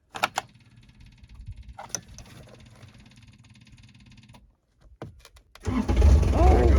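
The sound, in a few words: engine starter cranking after Alaskan snowstorm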